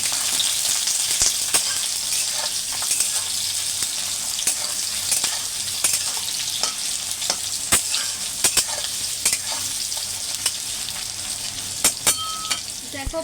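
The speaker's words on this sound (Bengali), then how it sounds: "দেখো পেঁয়াজটা কিন্তু লাল লাল করে ভাজা হয়ে গেছে" Onions and garlic frying in oil in a pan until reddish-brown, a continuous loud sizzle with frequent sharp clicks of a spatula stirring against the pan.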